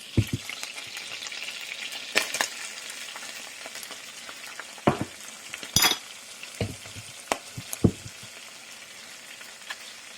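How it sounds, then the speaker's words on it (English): Ginger garlic paste fries in a pan with a steady close hiss, broken by sharp scrapes and clinks of a utensil stirring it at irregular intervals, no talk. "Mix it all together and let it cook for approximately 1 minute."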